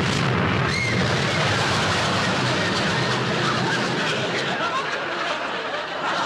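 A bomb explosion sound effect in a TV comedy program roars as a long, loud, sustained blast that fades slowly.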